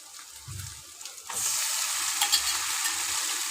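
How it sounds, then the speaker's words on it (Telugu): Gongura leaves go into a hot frying pan, and a steady loud sizzle suddenly swells and holds after a few soft stirring sounds. "ఇప్పుడు గోంగూరను కూడా వేసుకోవాలి"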